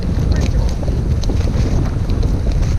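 Gusty winter wind in sleet and snow on the West Highland Way buffets the microphone with a constant rough roar, close and loud throughout.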